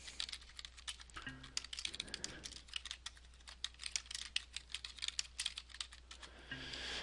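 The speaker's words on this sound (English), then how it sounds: "go to this little square box and type in what you want to say" Quiet, close typing on a computer keyboard into a chat box, rapid irregular key clicks continuing throughout with no talk.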